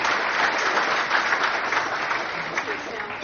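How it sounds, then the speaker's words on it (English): An audience at a Maryland state climate resiliency summit panel applauds an assistant secretary, a steady full room of clapping that holds evenly throughout at moderate loudness. "Let's give a round of applause for Assistant Secretary"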